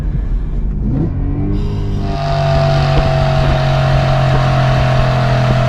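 A BMW E92 M3 engine climbs quickly toward high RPM, then holds a loud, sustained, buzzing rev close by, with no voices.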